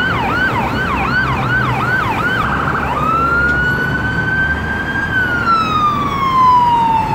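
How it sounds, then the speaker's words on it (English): A loud, close siren wails in fast rapid cycles, then shifts into a long slow rising and falling tone over road noise. "we got them blocking traffic, and we got a siren"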